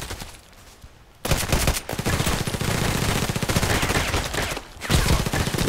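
Rapid Glock 17 pistol fire in the shooter game Contract Wars, a dense string of close, sharp shots after a brief quiet start, then another burst near the end.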